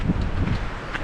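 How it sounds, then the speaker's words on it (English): Strong wind in Death Valley, California during a sandstorm, a loud rough buffeting that rumbles and gusts continuously against the microphone. "even though it's really windy"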